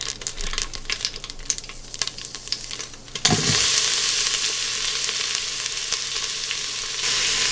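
White onion and green onion whites sizzle as they hit hot vegetable oil in an Instant Pot. Scattered clinks and stirring come first, then a sudden loud, continuous frying hiss.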